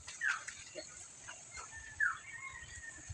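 A village dog gives two short, sharp yelps or whimpers about two seconds apart, fairly faint against a quiet outdoor background.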